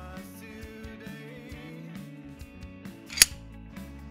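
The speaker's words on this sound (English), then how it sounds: "Turning the lock, push up, push down, quick release plate unlocked." A quick release plate lock on a fluid ball head video camera tripod is worked, with a single sharp click near the end against a quiet musical background.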